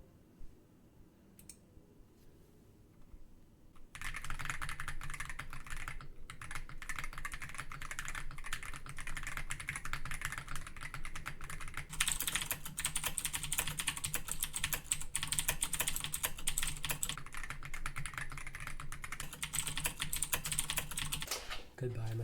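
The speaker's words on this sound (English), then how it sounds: "Let's do a quick sound test between the Monsgeek and my old Razer Black Widow." Rapid typing on a Monsgeek M1W-SP HE or Razer BlackWidow mechanical keyboard, clacky keystrokes in a fast continuous stream after a few quiet seconds, close and fairly loud.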